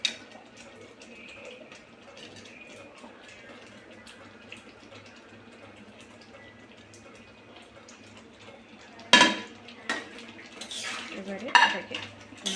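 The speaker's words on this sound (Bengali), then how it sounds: "এবারে এটাকে নাড়তে দেবো, ওকে দেবো, খুব সুন্দর করে নেড়ে নেড়ে সেটা মিক্সড করে দেবো।" Paneer cubes are stirred in a pan with soft scraping at first, then louder clinks and knocks of a spoon against the metal pan in bursts toward the end.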